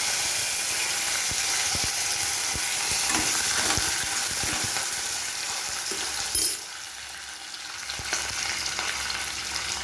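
Cashews, dried red chillies and curry leaves sizzle and crackle in hot oil for poha, a steady dense frying hiss with scraping stir noises, close and loud, no talking.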